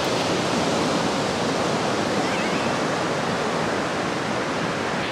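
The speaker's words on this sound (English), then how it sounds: "There's a lot of waves are picking up right now" Rising ocean waves at a summer family beach make a dense, continuous surf roar with no breaks or distinct crashes, loud and steady throughout.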